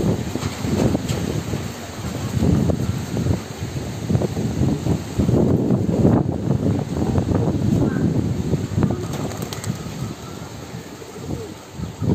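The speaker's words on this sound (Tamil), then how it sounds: "வயல்வெளி அப்படின்றதுனால காற்று கொஞ்சம் அதிகமாகவே வீசுது." Strong wind blows across an open field beside a pigeon cage, rumbling and buffeting the microphone continuously at a loud, steady level.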